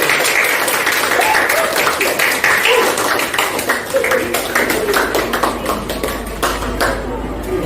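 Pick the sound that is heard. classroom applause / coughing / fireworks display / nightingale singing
classroom applause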